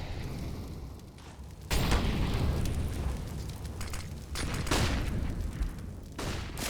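Grenade detonations in a Counter-Strike match: several loud, broadband booms and bursts of gunfire-like crackle, one near 1.7 seconds, another around 4.5 seconds and a third near 6.3 seconds, over continuous game noise.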